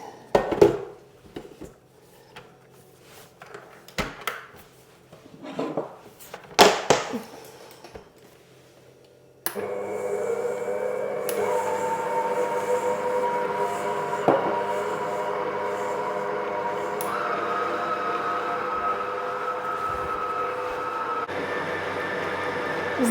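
After some clattering and knocks, an electric mixer starts whipping cream with sugar and vanilla sugar, whirring steadily with a droning motor hum, shifting speed slightly, continuing for several seconds.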